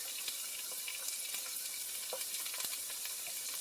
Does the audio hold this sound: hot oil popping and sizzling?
yes